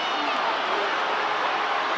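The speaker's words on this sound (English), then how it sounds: "The crowd urging the drive." A large rugby stadium crowd at a women's international between Wales and Italy roars steadily and continuously at a distance, a dense broad wash of cheering urging on a forward drive.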